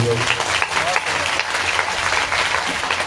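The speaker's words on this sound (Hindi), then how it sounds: "एक बार सभी लोग हमारे गुरुदेव के लिए ताली बजाए" Loud, continuous crowd applause for the guru at a Shiv Mahapuran katha gathering, a steady roar of many hands clapping while a voice talks over it.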